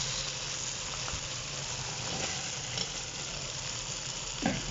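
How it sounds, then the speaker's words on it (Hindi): Boiled beef sizzles in frying masala for yakhni pulao, a steady close hiss with faint stirring scrapes and a soft clatter near the end. "तो अब हमने जो गोश्त उबाल के रखा है वो इसमें डाल देंगे।"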